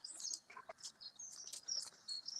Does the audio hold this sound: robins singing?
yes